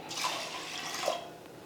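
Water pours into a pressure cooker holding rice and lentils for pongal, making a brief, steady, close splashing rush that fades out after under two seconds.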